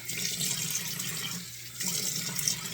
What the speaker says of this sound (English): Going to turn on the cold water here.